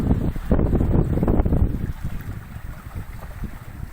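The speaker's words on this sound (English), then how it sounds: "Absolutely fabulous trade wind sailing." A sailboat runs in the trade winds on an Atlantic crossing. Loud wind buffets the microphone and water rushes past the hull, steady and close, and no one speaks.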